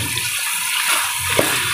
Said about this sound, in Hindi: तो अभी टमाटर हल्का सा पानी डालेंगे